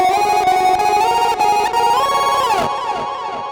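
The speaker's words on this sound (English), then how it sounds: "I'm going to put this on lead guitar, but I'm going to add this ping pong delay after it because I want to add stereo width" Lead electric guitar through Glitch Witch fuzz into a ping pong delay plays a sustained, buzzy, glitchy line with bright harmonics, repeating echoes and a pitch swoop near the end, loud and alone.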